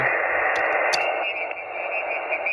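A Xiegu G90 ham radio transceiver with its sound tube removed plays steady band-limited hiss and static, loud and continuous, with a faint voice briefly breaking through the noise.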